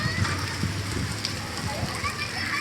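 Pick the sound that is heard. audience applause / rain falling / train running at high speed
rain falling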